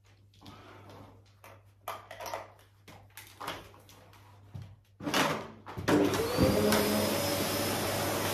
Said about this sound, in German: dann staubsaugen wir nochmal